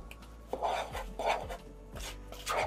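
Butter is worked by hand into a crumb topping, producing soft rhythmic rubbing and crumbling bursts, about four close strokes, with no talk.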